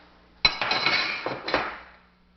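Metallic clatter and clinks as the receiver cover and recoil spring are pulled off an AK-47 rifle during disassembly, one sharp hit followed by rattling metal parts sliding and knocking, close and fairly loud.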